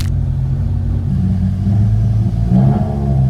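BMW M5 E60 V10 running after a start-up, a deep steady idle rumble that swells briefly with a light rev, close and loud, following Vanos solenoid repair on a rolled car.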